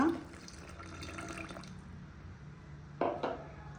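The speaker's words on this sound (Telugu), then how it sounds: "అదే మిక్సీ జార్లో నీళ్ళు కొద్దిగా వేసుకొని బాగా మసాలా అంతా తీసుకోవాలన్నమాట" Water is poured into a mixer jar holding ground masala while cooking a potato, raw banana and moong dal masala curry. It opens with a short pour and a steady liquid trickle, and a couple of brief splashes come near the end.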